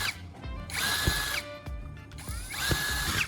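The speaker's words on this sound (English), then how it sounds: "I'm drilling directly into it." Power drill whirring as it bites into a copper pipe, two separate drilling bursts with rising and falling motor pitch, close and fairly loud, with a short pause and faint clatter between them.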